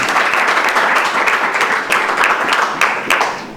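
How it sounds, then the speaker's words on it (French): A studio audience at a school talent show applauds a finalist, loud close clapping with a few sharper individual claps standing out near the end. "Est-ce qu'on peut applaudir pour Chimanga?"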